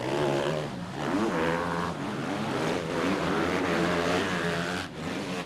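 Motocross bikes at the Galle Super Cross race in Sri Lanka, engines droning and revving steadily together, loud and continuous with rising and falling pitch throughout.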